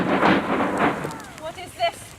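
Thunder for a stage production of Macbeth opens as a heavy rolling rumble that fades out, followed by a few brief, faint voice-like sounds.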